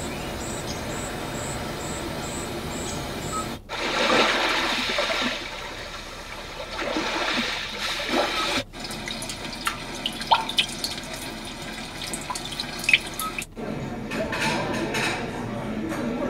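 The Lively Forest nature-sound track plays inside a 2021 Hyundai Palisade, carrying a continuous wash of flowing, trickling water with scattered drips. It stays at an even, moderate level with brief cuts between segments and no talking.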